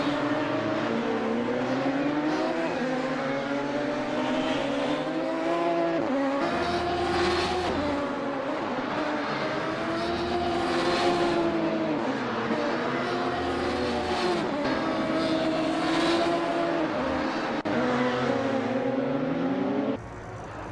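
A Radical SR3 race car lapping the Nurburgring in the Assetto Corsa racing sim, its high-revving engine wailing continuously up and down through gear changes, loud and close throughout, with tyre noise and no talk.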